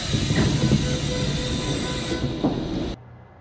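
A Seoul Subway Line 9 train bound for Central Veterans Hospital runs along the track with a loud, steady rumble and hiss, faint wheel squeal and a clack near 2.5 seconds, before the noise cuts off abruptly near the end.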